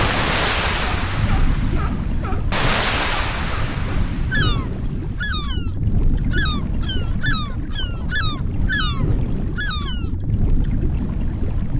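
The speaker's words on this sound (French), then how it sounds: "Au milieu des vagues aux crêtes blanches au large des côtes sud-africaines" Ocean surf off the South African coast near Seal Island, loud steady rushing waves with wind throughout, and a series of short repeated high bird-like calls in the middle section.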